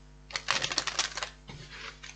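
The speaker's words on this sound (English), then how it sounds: "One more shuffle." Tarot cards shuffled by hand in a quiet room, a quick burst of dense papery riffling and flicking that pauses briefly, then resumes more softly with scattered card snaps, close and alone.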